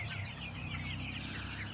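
Sonali chickens on a Bangladeshi poultry farm cluck steadily in a dense, close chorus, with overlapping calls and a constant farmyard murmur throughout.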